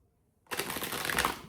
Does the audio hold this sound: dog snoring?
no